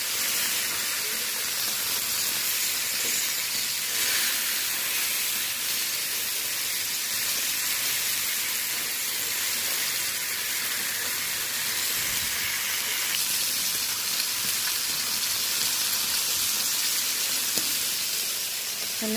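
Tilapia fish pieces fry in hot oil in a kadai, a steady, loud, unbroken hiss and sizzle that runs throughout without any talking.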